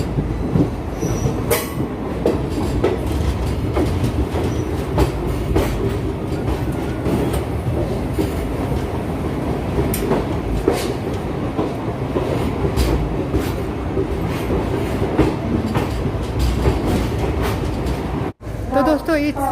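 The 15968 Ledo-Rangiya Express runs on the rails toward Guwahati, with a steady loud rumble of wheels and carriage noise, occasional clicks and squeals throughout, and faint voices in the background.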